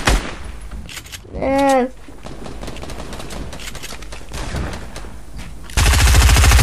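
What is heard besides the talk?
gunfire from shooting in the video game Fortnite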